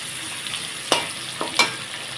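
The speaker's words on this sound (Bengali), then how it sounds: "তো আমি পনিরটাকে খুব সুন্দরভাবে লাল করে ভেজে নেব।" Paneer frying in oil until reddish-brown, a steady soft sizzle broken by a few sharp crackles and stirring scrapes, close by and moderately loud.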